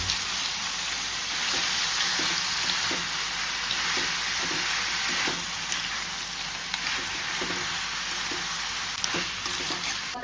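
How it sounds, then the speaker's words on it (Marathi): Crab frying in hot oil for Goan crab sukha, a continuous close crackling sizzle with scattered sharp pops, steady and fairly loud throughout with no talk. "बरे तळसून घेता."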